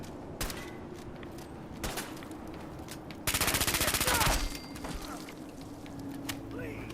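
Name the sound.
splatter cannon firing in video game Fallout 4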